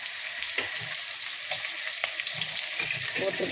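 Sliced large onion frying in a pan for Indian-style tomato rice, a steady broadband sizzle with occasional soft stirring scrapes, close and continuous with no talking.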